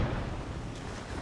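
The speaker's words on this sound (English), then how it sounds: "When one of these explosions goes off, the shockwaves go right through your body" A deep, rumbling blast of detonated ordnance in Ukraine fills the moment, a brief and powerful boom with a roaring low-end wash.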